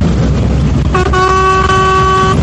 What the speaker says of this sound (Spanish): Toma ya, con ese bocinazo.